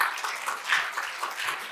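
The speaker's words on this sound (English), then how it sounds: "Another round of applause" Conference audience at the New Mexico Water Conference applauding, a full, steady wash of clapping from many hands that swells and ebbs slightly, heard alone without speech.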